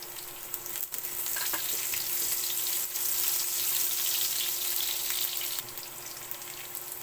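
Chopped onions fry in a hot pan, giving a steady, fairly loud sizzle and crackle with occasional stirring scrapes, continuous throughout.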